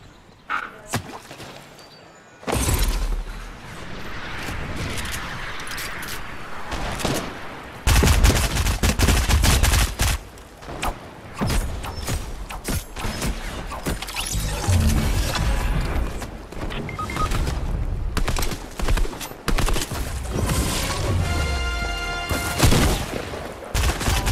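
Fortnite gunfire cracks out in repeated bursts and rapid volleys, loud and close, with a few booming hits and some game noise between the shots.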